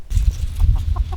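Chickens from a small flock of about twenty cluck softly inside a mobile coop, with a low continuous rumble of nearby movement under the calls and no talking.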